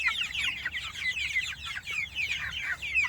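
Freedom Ranger meat chickens, active and slightly damp on a drizzly day, cluck and chirp continuously at close range with no talk over them.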